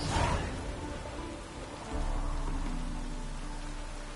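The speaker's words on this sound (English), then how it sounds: "Rain again." Rainfall in the Witcher 3: Wild Hunt game world, a steady broadband hiss of drops that swells after a brief dip, with a low rumble underneath and no talking.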